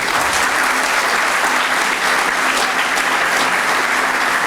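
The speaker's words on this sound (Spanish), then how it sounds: "un fuerte aplauso." Audience applause at a ceremony marking the tenth anniversary of the Cuban Five's return home, a loud, dense and continuous roar of clapping from a large crowd, steady throughout.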